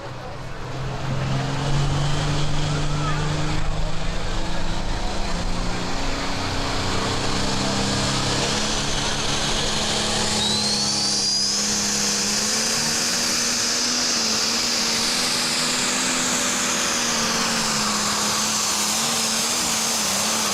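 A pulling tractor roars loud and sustained down the track at a Green County Fair tractor pull, its engine droning and rising in pitch as it strains, filling the whole stretch with no talk heard over it.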